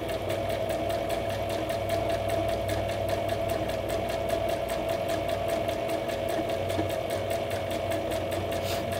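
A sewing machine stitching fabric runs at a steady, fast, even rhythm for the whole stretch, motor hum underneath the rapid needle clatter, close and alone without any voices.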